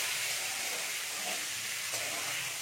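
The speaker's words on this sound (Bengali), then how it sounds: "আলুগুলোকে এবার একটু ভেজে নেবো।" Potato pieces frying in a pan for a potol and potato curry give a steady, dense hiss of sizzling oil that runs evenly from start to finish with no voices.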